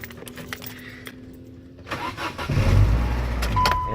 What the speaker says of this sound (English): now I should be able to turn the key.